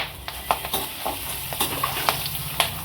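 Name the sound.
dry-roasting whole spices (cardamom, dry ginger) in a pan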